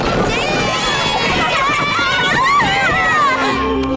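Cartoon children run and shout in a noisy, continuous crowd din of excited high voices and footfalls, while an adult voice speaks over them.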